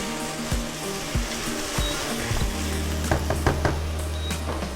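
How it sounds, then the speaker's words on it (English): Garlic sizzles and fries in a pan as the base for a tomato sauce, a continuous crackling hiss up close with scattered pops and stirring clatters, no talking. "Cook it for a couple minutes and add the garlic all together."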